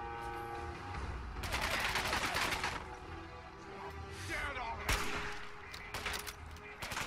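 Bursts of gunfire in the Fallout 4 video game, dense rapid shots at a steady pace over game background sound, with no voice over them.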